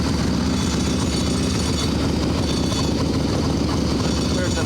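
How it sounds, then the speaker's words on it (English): Loose brake pad clattering inside an idling Evo Sportster chopper motorcycle, a steady dense mechanical rattle over the engine's constant rumble, close and loud for the whole stretch. "The brake pad just clattering around in there."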